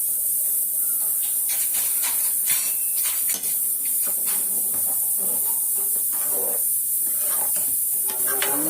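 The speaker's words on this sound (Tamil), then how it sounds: "குழம்பு நல்லா கொதிக்குதுங்களா" A pot of vegetable curry with mutton masala boiling steadily on the stove, a continuous close hiss under scattered small bubbling pops and crackles.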